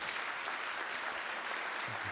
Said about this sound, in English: a round of applause for all these folks